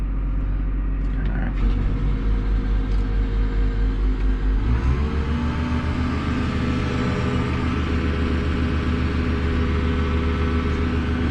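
A four-wheel drive vehicle drives through a field, its engine a steady, close, droning rumble that deepens and grows rougher partway through as it pulls harder, with continuous mechanical whir and no talking.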